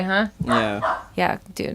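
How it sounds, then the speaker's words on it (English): A dog barks and yelps outside in a few short, sharp bursts, mixed in with casual conversation nearby. "You can probably hear my stupid ass dog outside yelling."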